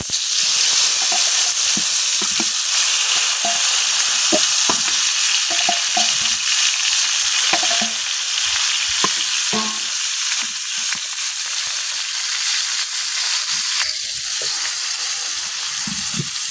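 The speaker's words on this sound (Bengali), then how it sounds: "এখন এই মাছ ভাজা তেলের মধ্যেই আমি বেগুনগুলা ভাজা নিলাম।" Steady loud sizzling of eggplant frying in hot oil left from frying fish, continuous throughout with scattered soft pops and faint clinks of a utensil.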